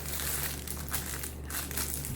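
Scissors crunch and crinkle through glittery silver decorative mesh for a Christmas snowflake wreath, a continuous close rustling and crackling with no talk.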